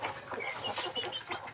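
Chickens in a coop cluck in quick, overlapping bursts, close and fairly loud, a steady chatter of several birds with no voices.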